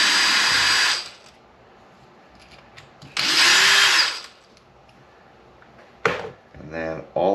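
A power drill backing screws out of a Traxxas Maxx-Slash RC car during a teardown: two loud, close whirring bursts of about a second each separated by quiet, then a short clatter and a stuttering final burst.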